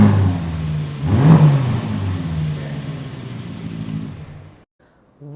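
A 2025 Aston Martin DB12 with its exhaust set to Sport Plus revs up close and loud, the engine note climbing to a peak then easing off and cutting out near the end.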